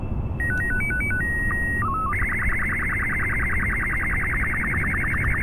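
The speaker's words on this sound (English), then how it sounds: "I'll wait for all the beeping and bleeping to stop." Electronic alert beeps from the Kerbal Space Program video game, a fast string of shifting high tones settling into a steady repeating beep pattern over a constant low engine rumble.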